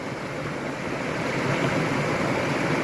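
Floodwater rushing through a swollen stream in the Gir forest makes a continuous broadband roar. It swells slightly louder toward the end, with no voices.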